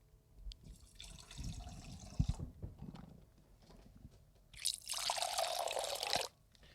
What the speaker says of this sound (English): So Nick's pouring.